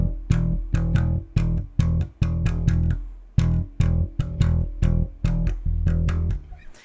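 Slap bass alternates slapped notes with muted strokes in a fast, even 16th-note pattern, with punchy low thumps and percussive clicks, loud and alone.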